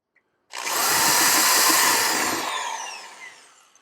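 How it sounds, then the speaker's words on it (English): A power drill bores into the lock of an arcade machine's upper coin door, starting abruptly after a brief silence and whining loudly and continuously for about three seconds before slowly tailing off. "I guess I'm going to have to drill out the upper coin door."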